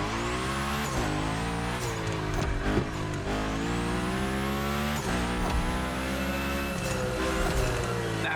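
A car slides through a gymkhana course in The Crew Motorfest, its engine droning steadily while it revs and shifts, with tire squeals rising and falling as it drifts around the obstacles.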